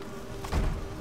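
Bees in the Hive area of the video game Hollow Knight give a brief, steady insect buzz that swells for a moment in the middle, alone with no talking.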